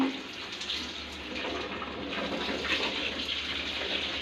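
Steady rush of tap water filling a bathtub for a child's bath, a continuous hissing pour heard close and fairly soft with no talking.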